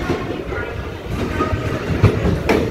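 A ten-car silver-green EMU900 electric multiple unit express train departs Yingge station on the Yilan line, rumbling steadily with rhythmic clickety-clack over the rails from close by.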